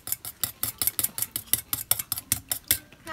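Whisk beating mayonnaise into Japanese-style fluffy pancake batter in a bowl, a fast steady run of close, bright clinks and scrapes against the bowl, about five strokes per second, with no voices.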